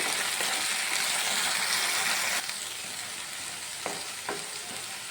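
Spinach frying with spice paste in a pan for palak egg curry, a steady loud sizzle that eases after a couple of seconds, with a few spatula scrapes and taps near the end.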